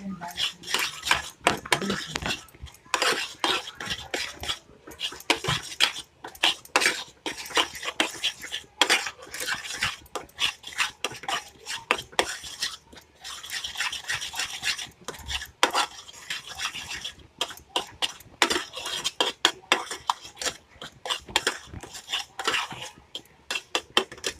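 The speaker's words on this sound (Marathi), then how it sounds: "असं छानपैकी भाजून घ्यायचं" Beetroot halwa roasts in a pan while a metal spoon scrapes and clinks against it in quick, continuous bursts of stirring, close and fairly loud.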